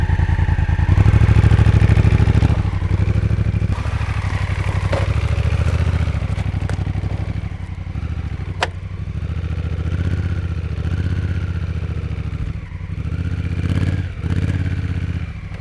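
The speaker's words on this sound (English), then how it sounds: "Now I'll take the same line on a motorcycle equipped with DCT." A close-up Honda motorcycle with a DCT transmission rumbles and revs unevenly as it rides over rocks, with clattering knocks over the rough ground, and no talking throughout.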